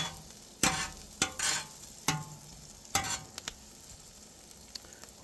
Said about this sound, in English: so got this stuff here sauteing